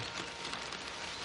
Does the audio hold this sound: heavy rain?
yes